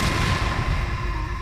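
A microwave exploding in a Roblox game, a dense booming rumble that fills the short stretch loudly from start to finish with a faint steady tone underneath, with no talking.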